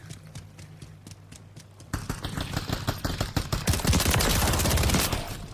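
Gunfire from Call of Duty Modern Warfare 3 rings out as sparse single shots that give way to dense rapid bursts of automatic fire, growing louder and more continuous toward the end, with no talk over it.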